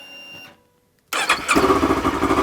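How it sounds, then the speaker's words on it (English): A Kawasaki Versys ER6N motorcycle engine fires up after a short silence, catching abruptly and settling into a loud, close, rough idle with rhythmic pulsing. "Start the bike up."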